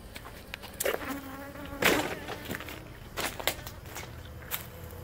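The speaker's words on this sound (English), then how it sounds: "there may be a dozen bees I leave behind" Faint, close honeybee buzzing flits in and out over a quiet background in an abandoned house, with soft rustling and crackling movements.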